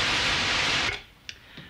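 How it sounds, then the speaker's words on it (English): A Moog synthesizer puts out pure white noise, a bright hiss like surf or steam. It holds steady for just under a second, then cuts off into near silence broken by a couple of faint ticks. "In its pure form, it sounds like surf or a steam sound."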